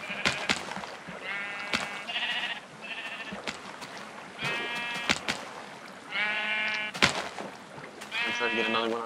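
Many blocky Minecraft sheep bleat repeatedly in quick wavering calls, loud and close, mixed with sharp clicks and taps between the cries.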